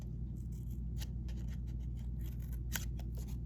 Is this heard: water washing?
no